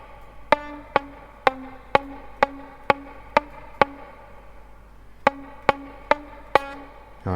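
Electric guitar playing a theme slowly with muted strings, sharp evenly spaced plucked notes in a steady pulse, a short pause, then another run, close and clear with no talking.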